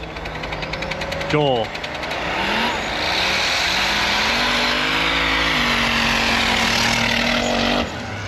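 Snowmobiles roar off the line in a snow drag race at Thunder Mountain, a loud rising engine whine with a sharp rev burst near the start and a sustained high-pitched scream, with a brief spoken name over it.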